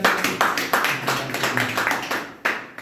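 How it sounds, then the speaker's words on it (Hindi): People at a Money Club plan meeting in a Kanpur office clap in a brisk, regular rhythm, a close group of hands striking together several times a second before a short pause and a final burst. "एक जोरदार ताली बजा"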